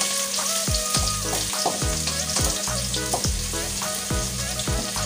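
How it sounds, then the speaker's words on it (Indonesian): Shallots sautéing in hot oil for an Indonesian eggplant dish with shrimp-paste sambal, a loud, continuous close sizzle with repeated scraping stirs in a rhythmic pattern, no voices. "Ayo langsung aja kita tumis bawang-bawangannya ya."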